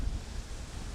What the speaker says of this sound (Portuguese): o vento vem daqui